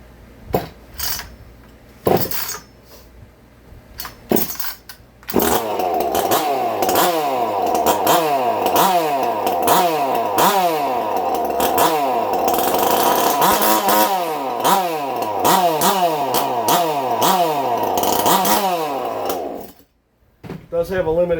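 A cheap Chinese 2511 top-handle chainsaw engine runs on a bench, first sputtering through a few short pulls, then roaring loud and close with repeated revving surges up and down before cutting out and briefly restarting.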